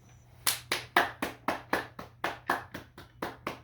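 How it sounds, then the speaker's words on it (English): A round of applause for a guest lecturer after a research talk, heard as a single nearby pair of hands clapping in a steady rhythm, about a dozen distinct claps. "Can we give Dr. Ruffin a virtual round of applause?"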